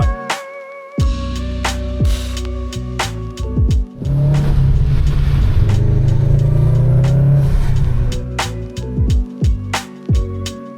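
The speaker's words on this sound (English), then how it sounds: "So now we're driving through here." A car drives through suburban streets of multi-million dollar homes near Bondi in Sydney, with a steady, loud engine drone and road rumble that swells through the middle and shifts with gear changes.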